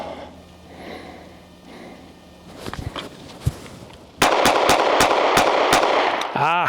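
Pistol shots in a bill drill, a rapid string of about six to eight sharp, loud reports fired close together after a few scattered earlier shots and handling noise.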